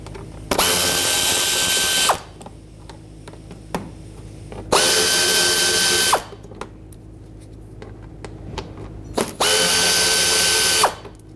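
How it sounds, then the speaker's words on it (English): A cordless power drill runs in three separate bursts of about two seconds each, backing T20 Torx screws out of the front inner fender liner on a 2013-2020 Nissan Pathfinder, with quiet gaps between bursts. "Underneath the front, you'll see three of the same T20 Torx screws. Remove them all."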